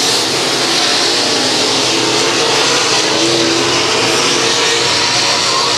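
Dirt track race cars at the 4 States Dirt Track Championship at Monett Speedway roar down the front straightaway in one loud, continuous wall of engine noise.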